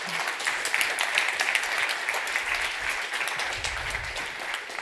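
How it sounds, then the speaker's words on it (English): A conference audience at a food sovereignty event applauds a team, steady dense clapping filling the room for about five seconds without a break. "Please give a round of applause for Laura Slot and her team."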